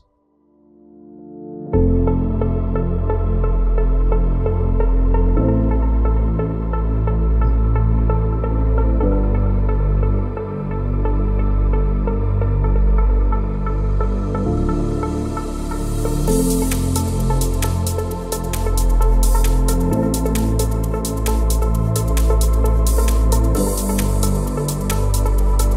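A rave track breakdown built on the Angel Kiss heavenly pad from Nexus, starting after a brief silence and swelling with sustained chords, then a bright hissing, crackling high layer rising in over the second half.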